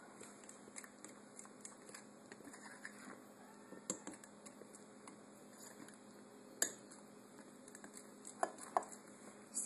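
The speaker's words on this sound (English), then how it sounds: "You're gonna mix this all together and make sure that you mush that pumpkin in there." A spoon stirs and mashes pumpkin into a thick chocolate cake batter made with coconut flour in a bowl. Soft scraping, dull thuds and occasional sharp clinks on the bowl sound over a faint steady background.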